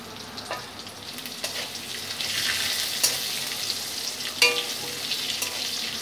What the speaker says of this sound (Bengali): আলুটা ভাজার সময় আলুতে দিয়ে দেব নুন।